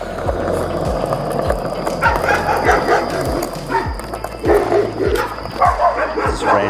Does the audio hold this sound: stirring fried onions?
no